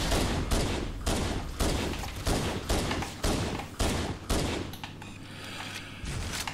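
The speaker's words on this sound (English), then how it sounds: "I'm running out of pistol bullets." Rapid pistol gunfire in Halo: Combat Evolved, a dozen or so loud, evenly spaced shots cracking in quick succession with a brief pause near the end, no talking over it.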